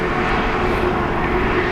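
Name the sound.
aircraft taking off from runway at Dublin Airport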